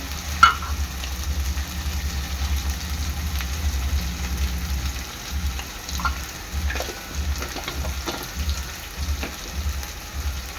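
Turmeric and spices hit hot oil for a mutton gravy, giving a steady close sizzle with a low pulsing rumble underneath and occasional stirring clinks and scrapes throughout.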